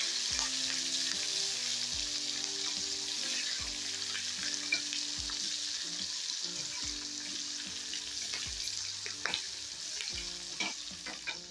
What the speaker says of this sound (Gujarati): હવે મરચાંને આપણે ધીમા ગેસે તળી લેવાના છે પહેલા।